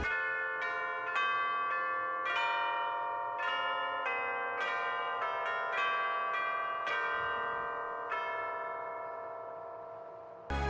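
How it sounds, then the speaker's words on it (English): Decorated bells in the Aft Castle of Final Fantasy XIV ring out the Final Fantasy main theme during the Starlight Celebration event, a clear melodic sequence of struck tones with long ringing decay, played alone without voices. "we return to the Aft Castle to see the fully decorated bells and play them for the first time, and they play the main theme of Final Fantasy"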